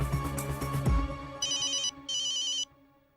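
A telephone rings in two electronic bursts with a short gap between them, clear and close, following a fading musical sting at the start.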